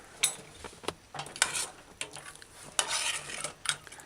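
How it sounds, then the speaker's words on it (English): Brown stewed oxtail being stirred in a pot, the spoon scraping and knocking against the metal in irregular clinks and scrapes, close and fairly loud with no talking. "So stir in your pot before you serve"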